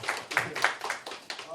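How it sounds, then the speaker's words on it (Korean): A small group claps at a labor union press conference for proportional-representation candidates, a scattered, fairly quiet round of applause lasting a moment, close by with a few distinct hand claps. "박수 한번 부탁드립니다"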